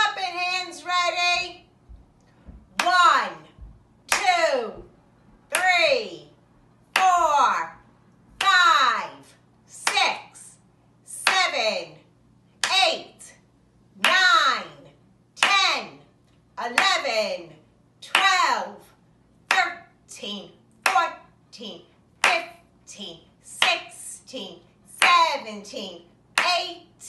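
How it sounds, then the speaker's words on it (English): Children and an adult at a classroom circle time clap together in a steady rhythm, about nineteen evenly spaced claps, each one paired with voices counting aloud in unison, close and fairly loud. "Do you think we can clap to the number 19?"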